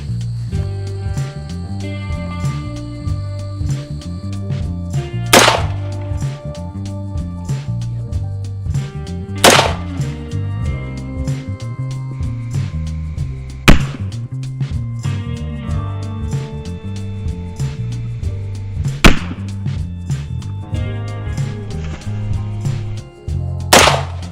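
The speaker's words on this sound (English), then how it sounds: "now we're going to see what the effects of the 223 on a grapefruit are while we're shooting grapefruits" Four sharp .223 rifle cracks fired at grapefruits, spaced several seconds apart, ringing out over continuous background music.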